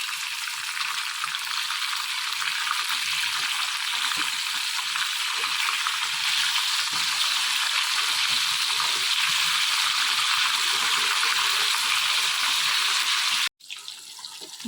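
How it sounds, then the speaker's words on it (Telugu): Fish pieces frying over low heat in a pan, making a strong, steady hiss of sizzling oil that runs almost unbroken, cuts off briefly, then resumes, with no one speaking. "ఈ చేప ముక్కల్ని సిమ్లో పెట్టి వేయించుకుందాం"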